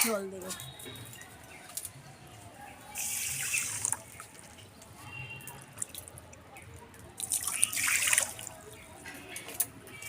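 Water pours into a bowl of sugar to start a syrup for chhana jilipi, two bright splashing bursts of pouring a few seconds apart over a quiet kitchen background.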